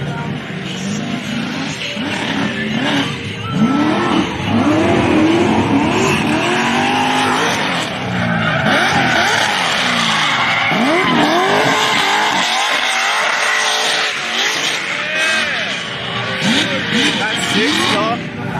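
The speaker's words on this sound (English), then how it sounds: "I thought he was just going to do a burnout." A car does a loud, sustained burnout at Powercruise Sydney, with the engine roaring and rising and wavering tire squeals repeating throughout. People talk under the noise.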